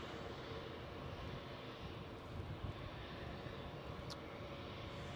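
An EasyJet airliner at Edinburgh airport, its jet engines producing a steady broadband roar that fills the whole stretch at moderate distance, with no talk.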